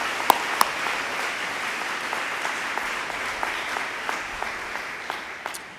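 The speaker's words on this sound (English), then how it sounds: "Let's give them a round of applause for the thought that went into that." An audience at a school graduation ceremony applauding steadily, a dense sustained clapping from a large crowd that fades slightly toward the end, with no talking.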